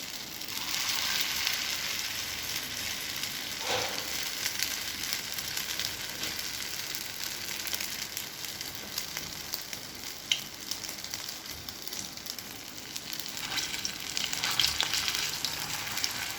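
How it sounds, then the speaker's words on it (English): Potato apple lollipops shallow-fry in oil with a steady, close sizzle and crackle that carries unbroken throughout, with no talking. "Now I'm going to start the shallow fry."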